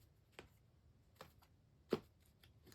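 A few short, crisp riffling bursts of cards being shuffled, separated by pauses, fairly close and quiet.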